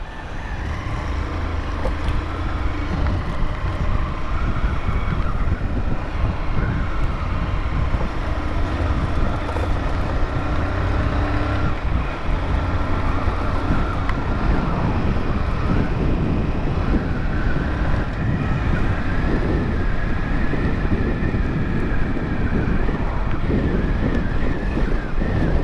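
Strong wind roars against a motorcycle rider's helmet microphone on a city road in Paulista, Pernambuco, a loud, steady buffeting rumble that never lets up, with no talking.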